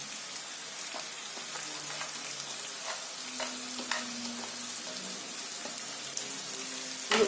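Onions and curry leaves frying in a pan for a moong dal gravy, a soft, even, rain-like sizzle with scattered pops and light stirring taps, heard close and without voices.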